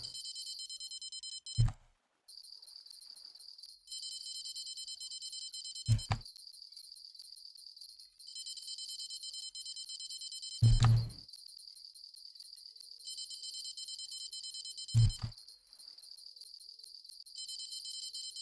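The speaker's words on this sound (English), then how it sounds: "why have alarm bells on there when you're using a rod stand with bells?" Electronic bite alarms on a fishing rod stand in the Fishing Planet video game, hunting for white moose. A continuous high beeping tone runs throughout, broken by four short low thumps at even intervals, each followed by a brief gap in the tone.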